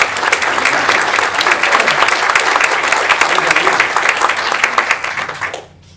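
A crowd applauding at a film-and-debate event, dense continuous clapping with some voices mixed in, loud and close, cutting off abruptly near the end.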